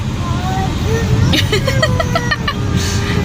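A vehicle passing on a street outside a home in Chennai, heard as a steady road rumble with a brief horn-like tonal sweep in the middle, under household background noise and faint voices.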